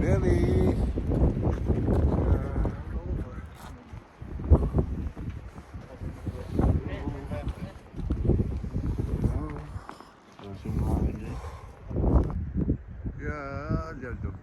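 Gusty wind buffets the microphone in uneven rushes outdoors, while people talk and move about nearby.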